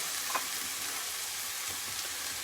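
Grated fresh tomato simmers and sizzles in a pan of prawn and spinach curry, a steady close frying hiss without pause and no voices.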